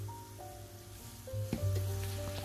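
Red chili tempering sizzles steadily in a hot pan with chili powder and salt for an Ambadi (Deccan hemp) curry, a close, continuous frying hiss that swells slightly partway through.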